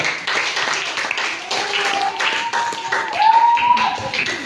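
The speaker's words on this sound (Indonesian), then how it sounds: "Boleh dong tepuk tangan." Classroom audience clapping, a brief scattered round of applause with people talking over it at moderate loudness.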